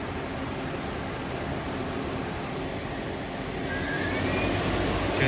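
The spindle of a used 2014 Doosan Puma 2600Y CNC lathe runs at 1500 RPM, giving a steady broadband whir that holds constant and swells slightly louder toward the end.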